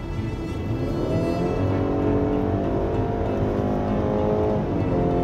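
BMW X3 20 with a 2.0-litre gasoline four-cylinder turbo engine accelerating, a loud, continuous rising engine whine and road roar heard from inside the car, pitch climbing through gears with no talking.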